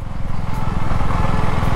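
A motorcycle ridden along a road near Khopoli gives a loud, steady engine drone with a pulsing low rumble, close to the listener and mixed with wind noise, with no talk.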